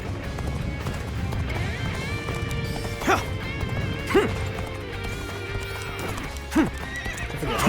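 A horse gallops with steady clip-clop hoofbeats in the video game Dynasty Warriors Origins, several sharp whinnies breaking through at intervals over busy battle sounds.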